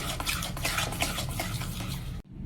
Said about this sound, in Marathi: कंटिन्युअस त्याला असं हटवत राहावं लागतं, नाहीतर मग ते करपतं खाली तळाला.